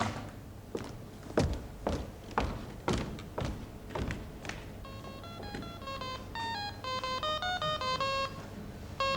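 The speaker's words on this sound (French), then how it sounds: "Bon, Léo, tu as appelé son portable? Non, non, appelle, on sait jamais" A mobile phone rings with a bright melodic ringtone of rapid repeating tones, loud and close, following a run of dull thumps and knocks in a stage comedy performance.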